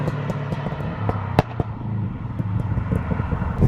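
A Subaru Impreza P1 running an anti-lag system, its engine droning close by and broken by sharp exhaust pops and cracks. One loud bang stands out about a third of the way in, and there is no talking.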